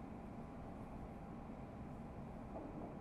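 A Class 710 electric train runs toward Upminster station with a faint, steady low rumble that holds without distinct clanks or horn.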